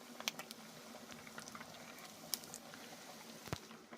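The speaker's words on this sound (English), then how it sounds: "I'm actually frying it in the fryer. Deep frying those bad boys." A whole turkey deep frying in a fryer gives a faint, steady bubbling seethe sprinkled with light crackles and a few sharper pops, with no talk over it.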